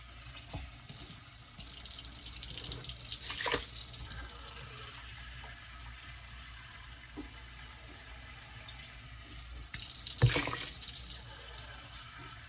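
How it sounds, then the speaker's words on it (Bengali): Water poured into a rice cooker pot for khichuri, a soft trickling and splashing flow that rises in two brief louder pours, quiet and close with no speech. "তো আমি 8 কাপ পানি দেব ওই কাপ দিয়ে"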